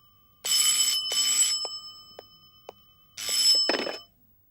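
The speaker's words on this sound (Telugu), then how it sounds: "ఆ ఫోన్ ఎవరో చూడు" A telephone in an office rings in bright, bell-like bursts, two rings, a pause with a few faint clicks, then a third ring that is cut short, loud and close.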